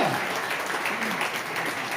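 Audience applause in a hall during a sales motivational talk, a steady wash of clapping hands at moderate distance lasting throughout, with no speech on top.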